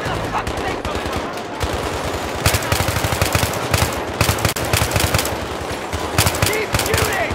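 Rapid machine-gun bursts in the Battlefield 3 video game, dense overlapping gunfire with sharp repeated cracks, loud and sustained, with players shouting between shots.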